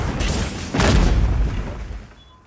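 A Gunlance Wyvern Fire blast in Monster Hunter Wilds, a deep booming explosion that swells after a brief lead-in and rumbles away over about two seconds.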